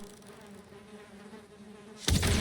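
Bees in the video game Valheim hum around a beehive in a close, steady buzz with a clear pitch, cut off near the end by a sudden loud noisy burst.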